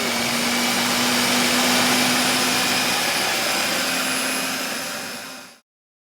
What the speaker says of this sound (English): we're gonna add it into this blender and blend it up